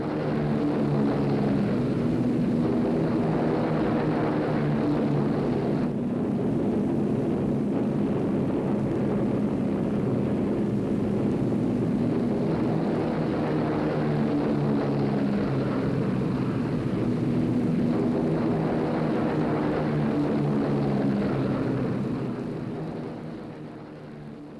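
A B-17 Flying Fortress bomber levels off for a bomb run at about 4,000 feet, its piston engines giving a heavy, continuous droning roar that swells and recedes slightly before tapering at the end.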